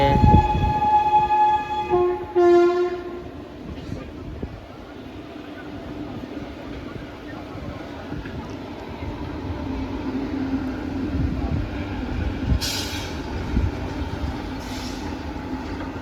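A Sabari Express train (Coimbatore–Kollam) rumbles past steadily, its horn sounding at the start, with faint voices in the background.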